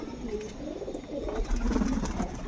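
Pigeons bred at home coo close by in low, rolling, overlapping murmurs that run on continuously at moderate loudness, with no talk over them.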